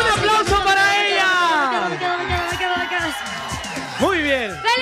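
A festive crowd cheers, whoops and claps for a female singer at a live stage event, loud and lively, while amplified voices talk and sing over the din.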